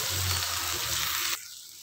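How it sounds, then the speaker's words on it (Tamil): Tamarind water poured into a pan of frying tomatoes and onions for Tamil vatral kuzhambu, a loud, close hissing sizzle and splash that cuts off abruptly after a second, leaving a faint simmer. "அந்த புளி எடுத்து இதில் ஊற்றிக்கலாம்"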